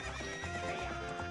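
Epona the horse lets out a whinny in The Legend of Zelda: Ocarina of Time, a short, bright, wavering neigh heard clearly over a low background hum with a faint suggestion of hooves.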